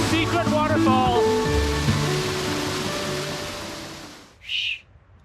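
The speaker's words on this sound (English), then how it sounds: "Waterfall." Waterfall at Torres del Paine in Patagonia, heard as a steady broadband rush close by under a clear morning, with a person talking over it before the wash fades out near the end.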